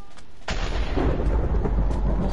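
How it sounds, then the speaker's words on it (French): Minecraft thunder hits suddenly after a brief quiet moment, then rolls on as a loud, deep rumble that fills the rest of the clip. "c'est le tonnerre qui fait ça"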